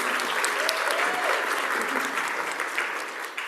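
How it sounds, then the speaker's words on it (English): Steady applause from an audience at a caregiving summit, dense clapping that holds evenly throughout with a faint voice briefly audible underneath. "I was really thrilled to hear you all clapping for it"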